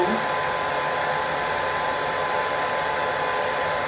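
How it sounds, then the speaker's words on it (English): A handheld hair dryer blows steadily on a low setting, a constant airy whir with no talking. "You put your handheld dryer on, I put it on low heat"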